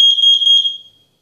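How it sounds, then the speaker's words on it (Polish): An ORNO OR-DC-605 carbon monoxide detector, pressed for a test, lets out a loud, piercing electronic beep that pulses briefly, then fades out within about a second. "Oczywiście dźwięk mamy już opanowany, jak pika."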